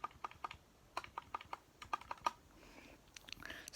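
Keys on a Royal Kludge 60% keyboard are pressed one at a time in a quick, uneven series of crisp, close clicks, followed by a softer rustle and a few more clacks at the end.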